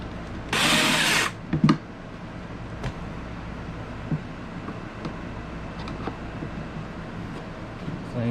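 A power drill drives stainless steel screws while a beach pier cooler is being built, giving one loud whirring burst followed by a couple of short blips, then quieter handling and workshop noise.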